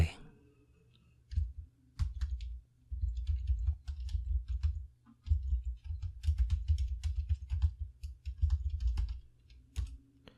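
Quiet, steady typing on a computer keyboard, soft clustered keystrokes in bursts with brief pauses between, recorded close and fairly faint.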